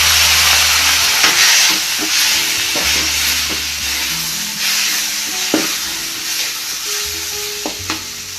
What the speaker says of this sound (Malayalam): ഇനി ഇതിൻ്റെ പച്ചമണം മാറി കിട്ടുന്നവരേക്കും ഒന്ന് ഇങ്ങനെ ഇളക്കിക്കൊണ്ടിരിക്കണം